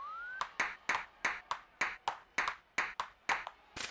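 A ball in a table tennis game on the Nintendo Switch title 1-2 Switch clicks back and forth about a dozen times in a steady rally, crisp and fairly quiet, after a short rising electronic tone.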